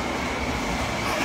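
A new Tokyo Ginza Line subway train running, with a steady loud rumble of wheels and carriage noise filling the whole moment, no voices.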